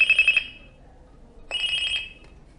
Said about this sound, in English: We can send a special ringtone,